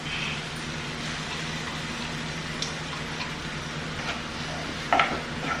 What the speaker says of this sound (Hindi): तो अब मैं सबसे पहले डाल रही हूँ मटर